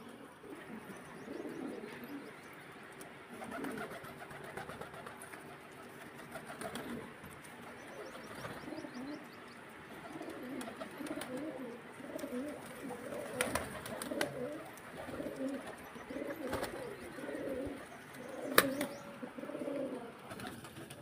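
Pigeons coo steadily in soft, repeated low calls, several birds overlapping, with occasional chirps and faint rustling in the background.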